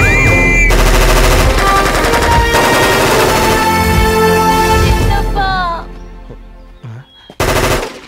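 Rapid bursts of automatic gunfire at a police academy firing range, loud and close, in sustained volleys that cut off near the end, followed by a short pause and another burst.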